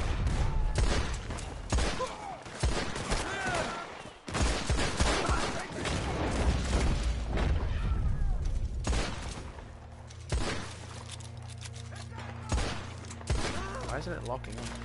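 Shotgun gunfire in Red Dead Redemption 2, several loud, sharp blasts in a rapid exchange over ambient game noise, followed by a steady low rumble with scattered thuds, and someone talking intermittently.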